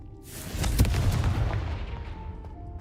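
The Confringo explosive spell goes off in Hogwarts Legacy as one loud, close boom that swells quickly and then fades into a rumbling tail over a couple of seconds.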